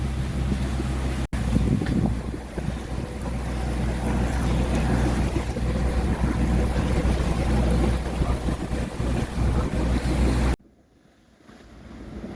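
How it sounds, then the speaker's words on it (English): Sailboat underway at twilight off the Queensland coast near Bundaberg, with steady wind rushing across the microphone and waves washing along the hull throughout, loud and continuous, dropping suddenly to a quiet hush near the end. "Twilight sailing on La Fiesta."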